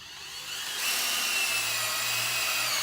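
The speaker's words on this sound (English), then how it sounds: "we're going to drill out the hole for the cord to run through." A power drill bores a cord hole through wood, a whirring motor that spins up and then holds a steady high-pitched whine close by, with no talking.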